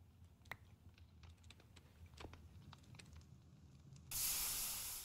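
Soft scattered clicks, then a loud, steady sizzling hiss from the video game Pumpkin Manor: Clocks and Cooking bursts in near the end and holds until the clip stops.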